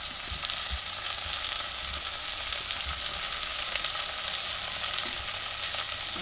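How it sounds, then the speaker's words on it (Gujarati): Peas and spices fry in a pan for a mixed pulse and pea dish, a steady close hiss of sizzling with occasional soft knocks from stirring. No voices. "બધું કકડી ગયું એટલે હવે આ પેલા ઘણા વટાણા હવે બધો મસાલો નાખી દો"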